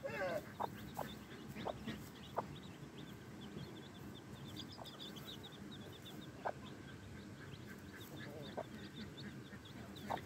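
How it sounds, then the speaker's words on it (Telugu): Pekin breed ducklings with a hen beside a pond, faint high peeping and chirping repeated across the scene, with occasional soft clucks over a steady outdoor background. "పెకింగ్ జాతి బాతు పిల్లలు పెకింగ్ జాతి పిల్లలు 3 బాతులు తెచ్చినప్పుడు దీనికే కలిపానండి"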